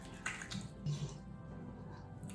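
Running water splashes softly as face cleanser is rinsed off in a bathroom, a low, steady trickle with a few brief splashes, faint and close.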